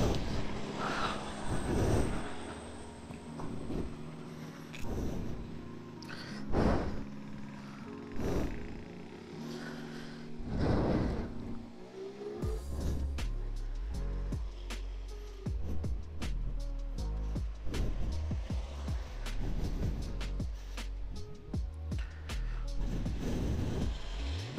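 A 2008 Honda Megapro Primus motorcycle engine, unused for two years and started on the electric starter, coughs through uneven bursts and knocks before settling into a steady low idle with rapid ticking close by.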